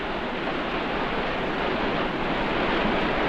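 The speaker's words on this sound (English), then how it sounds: "There's a bow cutting the water." A ship's bow cuts through open sea water, giving a steady, loud rush of broadband water noise with a wind-like hiss that continues unbroken with no voices.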